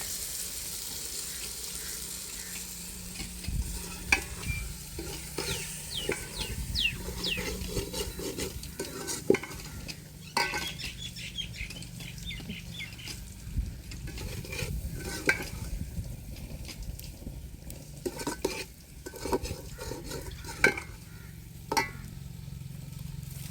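Potatoes and arbi stir-fried in a tempering, with a spatula scraping and clattering against the pan over a low sizzle, irregular clanks punctuating the steady frying noise throughout; no one speaks.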